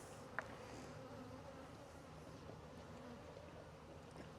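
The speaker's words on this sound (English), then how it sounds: "once we have a bin full of bees like this" A steady, dense hum of many honeybees buzzing together in a bin before a Varroa mite check, low and continuous, with no pauses or voices.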